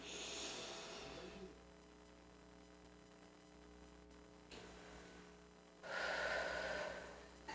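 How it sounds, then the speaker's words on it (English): A slow, deep exhale during a guided breathing exercise, a soft breathy rush heard close and alone, with a fainter breath earlier and a steady low mains hum underneath. "inhale deep, and exhale."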